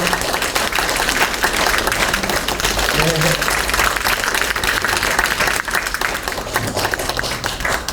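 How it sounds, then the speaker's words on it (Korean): Warm, sustained applause from an audience welcoming a lecturer at a Seoul literacy education program, a thick continuous roar of many hands clapping, loud and even from start to finish. "뜨거운 박수로 이렇게 모시면 어떨까 싶습니다"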